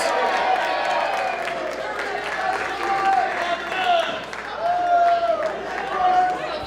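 A pro wrestling crowd roars and cheers through a steady wash of arena noise, with a commentator talking over it and swelling bursts of crowd reaction.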